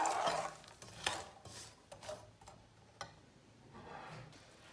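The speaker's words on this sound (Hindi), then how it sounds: "ये वक्फे वक्फे में हम इसमें ये चम्मच मारते रहेंगे" A spoon stirs melting jaggery and sugar in a pan for homemade til rewari, giving soft, irregular scraping taps over a quiet background, with a few sharper knocks spaced through the stretch and no voices.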